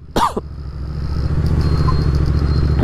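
A 650 motorcycle engine, rebuilt after being dismantled, climbs into a steady, loud rumbling rev close by, following a brief sharp clatter at the start.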